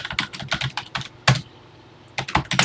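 Rapid bursts of keystrokes on a TI-99/4A home computer keyboard, close and clear, in several quick clusters separated by short pauses and one louder single clack.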